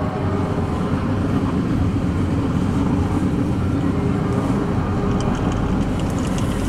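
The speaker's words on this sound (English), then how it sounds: "That second engine doesn't even sound correct." A locomotive's heavy diesel engine, running rough and missing a cylinder, drones steadily and continuously, a dense low rumble with no clear rhythm, loud and close, with no voices.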